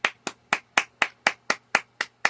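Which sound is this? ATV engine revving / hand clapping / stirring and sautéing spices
hand clapping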